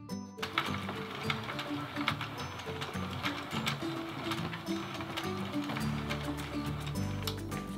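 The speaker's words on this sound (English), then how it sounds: "to remove it from the machine, all you have to do is just keep knitting for a few rows and it'll just fall off." A knitting machine works through rows on a twisted headband, giving a continuous busy clatter of small mechanical clicks and rattles with a low hum underneath, close and steady throughout.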